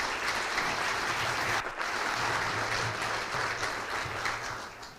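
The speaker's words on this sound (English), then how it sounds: "I think that deserves a big round of applause." Hall audience at a school district's State of the Schools address applauding, with a sustained wash of many hands clapping at moderate volume. There is a brief dip partway through, and the clapping continues steadily to the end.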